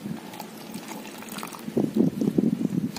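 Water is poured onto slaked lime, starting as a faint trickle and then turning into louder, closer splashing and gurgling in the second half, with no talking.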